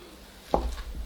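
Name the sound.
knife cutting a slice of apple cake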